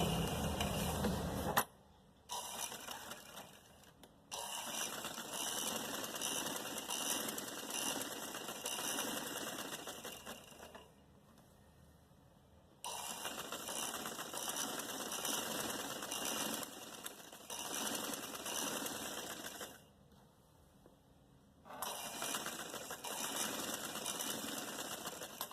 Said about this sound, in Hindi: शुरू में मैं बड़ा धागा छोड़ूंगी, आधा इंच के फासले से सिलाई शुरू कर रही हूँ।